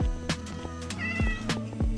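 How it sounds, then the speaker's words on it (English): Cats meow repeatedly in the Minecraft video game, several short rising and falling cries following one another over a steady game background, close and clear with no talking. "Yeah, these cats are nervous around me."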